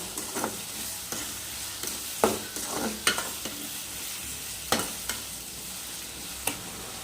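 Tomatoes fry and get stirred in a pan for a Chettinad-style egg gravy, with a steady low sizzle broken by repeated scraping strokes of a spoon against the pan, close and fairly quiet, with no talking.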